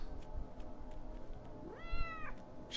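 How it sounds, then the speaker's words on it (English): A companion cat in the Wasteland 3 video game lets out a single rising, drawn-out meow, fairly faint over a low game background with soft clicks. "That's Kendall's cat making that noise."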